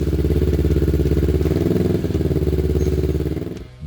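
Kawasaki ER6N standard motorcycle, built 2009–2016, with its engine running steadily and loud in a close, continuous throbbing drone that dips briefly near the end.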